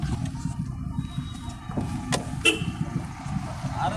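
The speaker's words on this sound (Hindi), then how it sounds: "गाड़ी आती हुई जस्ट।" A car rumbles over a badly broken road, its low engine and road noise steady throughout, with a short horn toot and a couple of brief clanks partway through.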